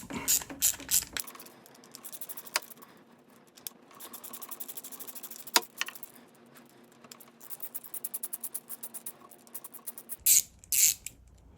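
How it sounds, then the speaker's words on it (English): A T25 Torx driver backs screws out of a fog light bracket on a BMW GS motorcycle: rapid ratcheting clicks in bursts, close and crisp, with a few louder knocks and pauses between turns. "Then grab your T25, just remove it. And remove these two screws at the top."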